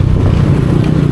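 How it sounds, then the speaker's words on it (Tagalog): A Yamaha Aerox V2 scooter engine runs steadily at close range, a continuous low droning hum with no speech over it. "Ito na, gamit ko na yung motor ko."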